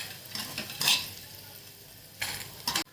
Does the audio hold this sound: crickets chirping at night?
no